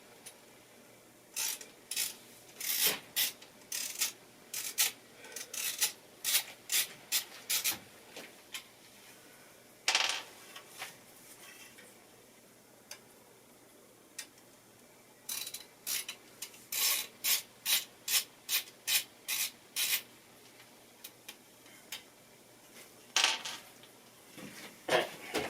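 Screws are removed from a server, producing repeated short metallic ratcheting clicks in quick bursts that are separated by brief pauses. The sound is fairly faint and close, and no voices are heard.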